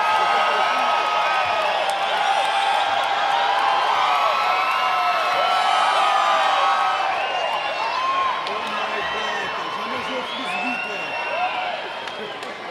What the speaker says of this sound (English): I'll let the crowd cheer because it's too loud now.